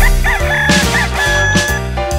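Loud rooster crowing rises over an upbeat Spanish-language children's song about farm animals, the music playing continuously beneath it.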